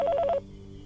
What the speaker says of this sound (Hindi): स्पीकर फोन का बटन।